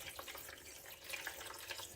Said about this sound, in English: that's what you just pour your water into. So I want to make sure this baby is absolutely full